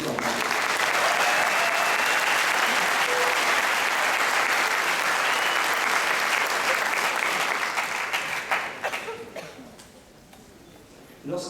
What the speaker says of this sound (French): On l'applaudit, votre père.